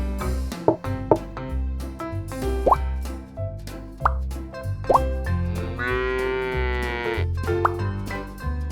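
A cow moos once, a drawn-out call heard over bouncy children's music with plopping sound effects.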